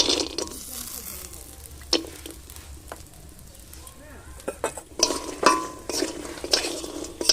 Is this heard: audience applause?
no